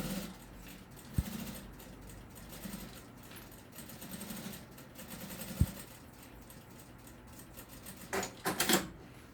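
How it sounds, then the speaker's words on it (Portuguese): A sewing machine stitches a straight seam along the zipper fold of a fabric makeup bag, its faint steady mechanical patter running quietly before a louder, rougher burst of stitching near the end. "faço uma costurinha de um lado ao outro, deixando bem retinho"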